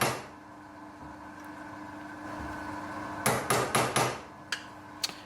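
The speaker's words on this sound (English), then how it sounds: "Center punch those other 2 locations." A hammer strikes a center punch to mark locations on metal in a machine shop, four quick sharp taps in a row followed by two lighter, spaced taps over a low background hum.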